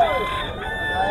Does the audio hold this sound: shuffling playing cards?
no